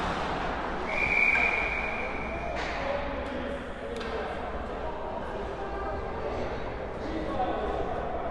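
A referee's whistle blows once, steady and clear, at a youth ice hockey game. Rink noise and a commentator's voice run through it, with a few sharp puck and board knocks after.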